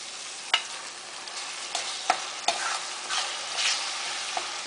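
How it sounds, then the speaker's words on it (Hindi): Tomatoes frying for rajma gravy, a steady gentle sizzle close by, punctuated by several spoon scrapes and taps against the pan as it is stirred. "अब हम इसमें टमाटो ऐड करेंगे।"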